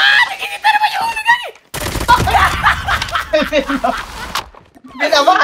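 Rapid automatic gunfire from a weapon in a video game comes in loud bursts with short gaps, while players talk over it and sound effects come and go.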